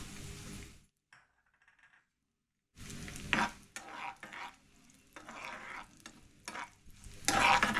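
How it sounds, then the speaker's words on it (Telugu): Raisins frying in hot ghee, a soft, steady sizzle broken up by stirring and the scrape and clink of a spoon against the pan, with a brief near-silent gap early on. "ఇప్పుడు కిస్మిస్ వేపుతున్నాను."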